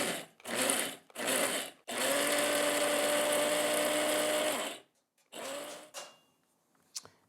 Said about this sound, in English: So we'll just put the lid on and pulse it so that the spices get ground.